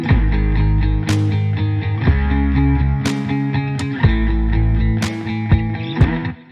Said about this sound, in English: the bass here is doing the root notes of our chords